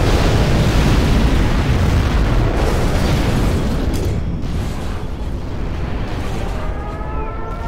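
A nuclear missile detonating in C&C Generals Zero Hour, a loud sustained roaring blast with a dense low rumble that slowly thins and fades over several seconds, with no voices.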